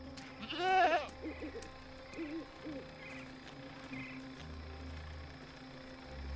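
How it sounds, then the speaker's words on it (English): A goat bleats once in the video game Dreamfall Chapters, a loud wavering cry near the start, followed by a few softer short bleats over a quiet, damp outdoor ambience with a low hum. "Goat eats leaves."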